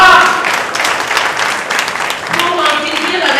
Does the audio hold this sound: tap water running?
no